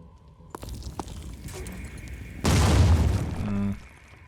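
A grenade blast in the strategy game Terror from the Void: a loud, dense burst that erupts suddenly and rumbles for about a second before cutting off, following quieter clicks and interface tones.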